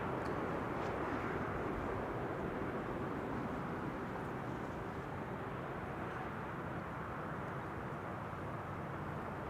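Steady broad roar of arriving airliners on approach to Schiphol's Kaagbaan runway, a continuous distant rumble with no break, plus faint wind.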